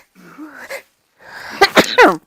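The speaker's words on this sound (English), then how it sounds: "I need to sneeze." A person sneezes: a few soft preparatory breaths, a pause, then a sharp, forceful sneeze burst up close.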